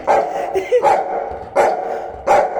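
A pet dog named Tiger barks repeatedly, close by and loud, in about four sharp bursts spaced unevenly, with no talking over them.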